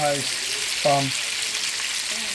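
Chicken browns in butter in a frying pan with a steady, fairly quiet sizzle throughout, and a few brief voice fragments sound over it.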